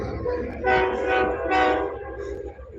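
A loud train horn sounds in two long blasts, harmonic and sustained, over a steady rumble of rail noise.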